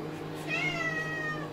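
A house cat gives one drawn-out, falling meow indoors over a low steady hum and faint room noise, with no talking over it.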